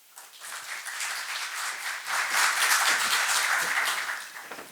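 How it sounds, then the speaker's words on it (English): Audience applause fills an events hall at a tech industry talk as a speaker is welcomed, starting modestly, then swelling into a fuller, steady round of many hands before tapering off at the end. "Please, a lovely warm round of applause for Arran Walsh."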